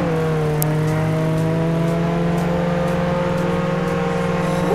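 A minivan engine in the Roblox Jailbreak video game drones loudly and steadily, a constant, tonal motor hum with little change in pitch and no voices.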